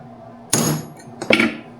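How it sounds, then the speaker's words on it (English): Two sharp metallic hammer whacks on a center punch marking steel for drilling, the first near 0.5 s and the second, a double strike, near 1.3 s, each ringing briefly, close and loud. "Give it a good whack."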